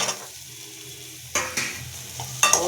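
Bitter gourd stirred in a hot oiled pan, a soft sizzle under a few sharp spatula scrapes and clinks against the metal, close and fairly quiet, with no talk.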